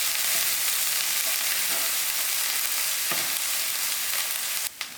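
Egg chutney, a Durban-style shakshuka, sizzles and browns in a pan with a dense, even hiss of frying that holds steady for several seconds before a brief dip at the end.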